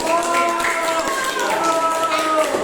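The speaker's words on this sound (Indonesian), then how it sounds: "Oke, tepuk tangan ya, jawabannya mantap." Clapping in a classroom lesson, a few scattered hand claps heard under a voice speaking and ringing tonal sounds, fairly close but mixed with the talk.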